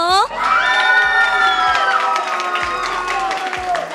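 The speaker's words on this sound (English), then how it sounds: "Amazing crowd and energy that we have right here" A loud esports arena crowd cheers and shouts without a break through a Mobile Legends MPL Singapore Season 4 playoff match, with excited voices and whoops layered over one another.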